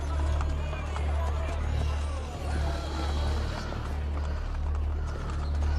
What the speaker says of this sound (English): Should we not travel by horse?